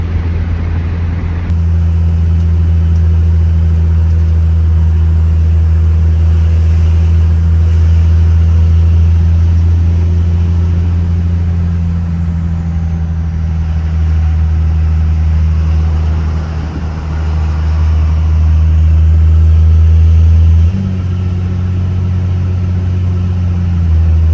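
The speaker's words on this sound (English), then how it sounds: "got the windows down just because it's kind of first or second nice day we've had this year so far. So I'm just going to enjoy the drive" A car on the road with its windows down on a mild day, producing a loud, constant low engine rumble and wind roar that swells slightly as it changes speed, with no talking.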